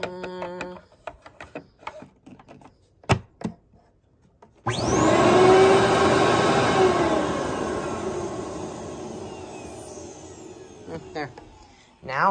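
A Workhorse Cleartrak cyclonic vacuum with a filter problem starts abruptly after a few taps and possible speech, then roars steadily with an odd whining, gliding tone riding on top, close and loud.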